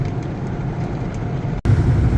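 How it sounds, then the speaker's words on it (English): Automatic car wash partway through a VIP wash cycle, heard from inside the car as a steady loud rush of spraying water and machinery, with a brief sharp dropout then a heavier surge of spray. "So this is the middle of the VIP wash."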